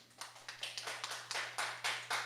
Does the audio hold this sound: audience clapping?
yes